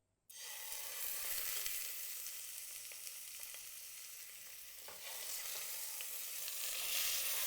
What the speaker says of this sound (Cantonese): 等啲油滾咗之後咧，我哋就放啲雞落去